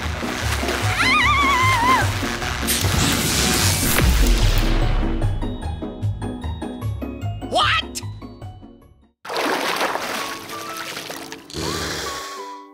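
Water splashes onto an evil microwave in a 3D animated dinosaur comedy, setting off a loud, crashing blast: dense close splashing and smashing with sweeping cartoon effects, a brief near-silent break, then another burst of noisy crashing.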